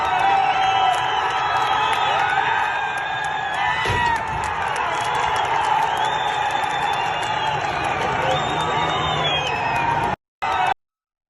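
Crowd of Iranian protesters cheering and shouting outdoors as a regime police station burns, a loud continuous roar of voices with whistles and whoops, cutting off abruptly near the end.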